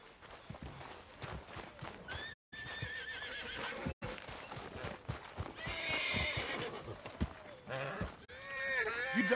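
A horse in the video game Red Dead Redemption II whinnies and snorts over clip-clopping hooves and game ambience, several neighs rising in pitch across the scene, fairly close but moderately quiet.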